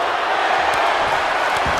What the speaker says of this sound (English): Steiner drawing a big reaction from the crowd.